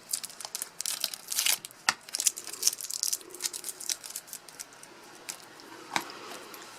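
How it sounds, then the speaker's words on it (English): Adhesive tape peeled from a fabric cellphone-holder bag made on an embroidery machine gives close, uneven crinkling and ripping bursts, busiest early on and then tapering into sparse sticky tugs. "I'll remove any tape that's in the way."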